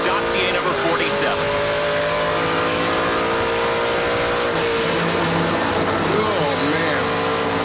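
Onboard a NASCAR Pinty's Series race car, the number 47, during a race: a loud, continuous engine roar with shifting pitch as the car accelerates and brakes through corners, with tire noise mixed in and a commentator speaking over it.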